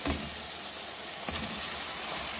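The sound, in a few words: boiled turnips added to sizzling masala in pan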